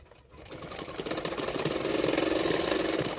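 A sewing machine runs a steady stitching line on a blouse dart, starting up after a brief pause and then whirring continuously and close up, with no voices.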